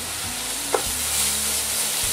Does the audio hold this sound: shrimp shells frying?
yes